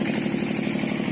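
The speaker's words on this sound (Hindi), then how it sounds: "ये इधर ये इंजन वगैरह चल रहे हैं" Engines running at a pig farm in Rajasthan, a brief, steady, close mechanical putter with an even rhythmic pulse and no voices.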